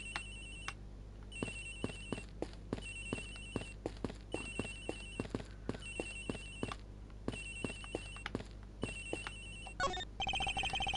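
A telephone rings repeatedly in the Ace Attorney Investigations video game. The electronic ring pattern comes in regular bursts over a quiet background, with a different tone at the end.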